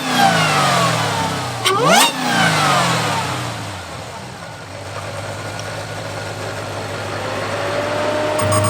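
A supercharged V8 engine in a Dodge Challenger Hellcat Redeye revs up hard and drops back to a deep idle, its loud 3-inch catback exhaust burbling steadily close by.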